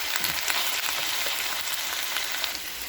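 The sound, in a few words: onions lightly frying in ghee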